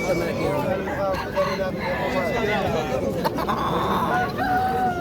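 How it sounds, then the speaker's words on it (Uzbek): A rooster crows at a busy bird market in Namangan, its call rising over constant crowd chatter while people talk nearby. "Xo'roz"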